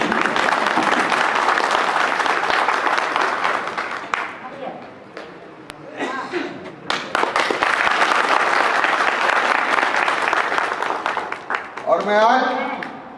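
Loud applause from a crowd at a public gathering of an International Subhash Sena event honoring PRD jawans, dense clapping sustained throughout with brief dips and some cheering.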